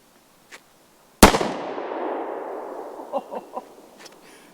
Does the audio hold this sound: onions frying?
no